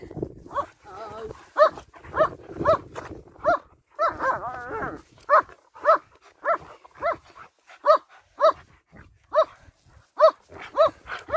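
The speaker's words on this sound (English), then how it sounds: "there's not many dogs that stand there barking at a stone" German Shepherd dogs and a husky bark repeatedly while playing outdoors, sharp evenly spaced barks close by, with a voice talking in between early on.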